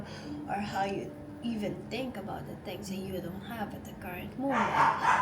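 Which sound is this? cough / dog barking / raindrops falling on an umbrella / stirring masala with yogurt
dog barking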